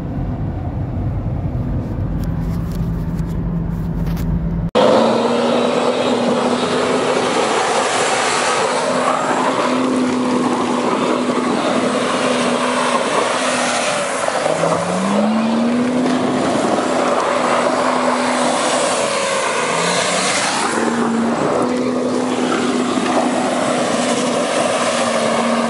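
A 2001 Renault Scenic Sport with the K4M 1.6 16-valve engine and small turbo pulls hard on a test drive, its loud steady drone rising and dipping with gear changes after a brief quieter opening, with no talk.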